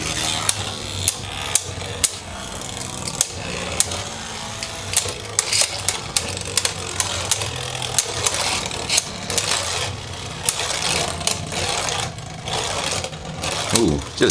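Beyblade battle between Khalzar K3 and Fafnir F3 tops in a stadium: continuous spinning whir with frequent sharp clacks of collisions, while a voice commentates over it.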